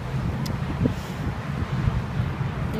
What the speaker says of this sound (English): The wind's blowing that way.